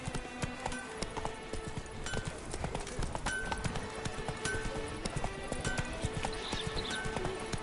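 Roach, Geralt's horse in a Witcher game, runs with a quick, continuous clatter of hooves heard close and clear, with faint background sounds throughout.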